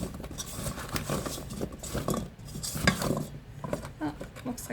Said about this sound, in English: I'm just going to take a rubber spatula and give that a toss.